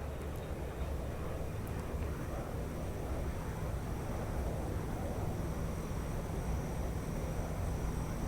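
The Shuttle Carrier Aircraft with the orbiter Endeavour mounted on top flies over at about 1,500 feet, a steady broad jet roar that holds evenly throughout at moderate distance.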